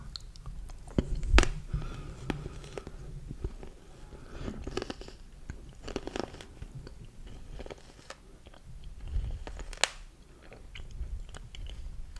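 Frozen raspberries coated in chocolate are chewed close up, with irregular crunchy bites and soft mastication sounds spread over several seconds in a quiet room.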